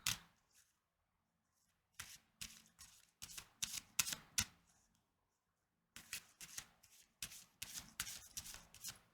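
Oracle cards are shuffled and drawn by hand, giving soft papery riffles and slaps in several short clustered bursts with quiet gaps between them, close and gentle.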